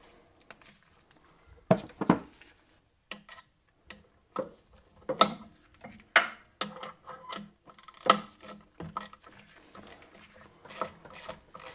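A bolt being run into the secondary clutch of a 2005 Massimo MSU 500 ATV, heard as irregular metallic ticks and ratcheting clicks in short bursts against a quiet workshop background.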